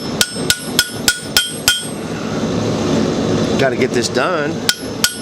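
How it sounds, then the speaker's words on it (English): A hammer grooves hot steel during the forging of a pineapple-twist bottle opener, ringing in a quick series of sharp, close metallic strikes, then pausing while someone speaks, and finishing with two more blows. "I'm putting the hammer to it. I'm just grooving it out."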